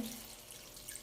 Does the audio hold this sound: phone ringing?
no